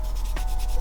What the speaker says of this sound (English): give it a little bit of a sand